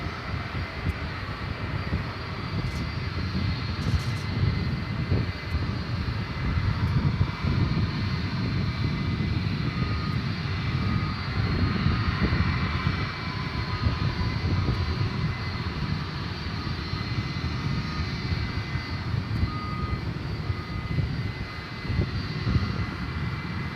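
American Flight 633 from Phoenix, a passenger jet at DFW Airport at night, roars steadily as a loud, sustained engine rumble with broadband hiss throughout.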